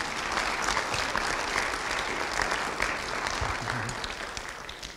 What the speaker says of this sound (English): Would you give Brother Jared a round of applause?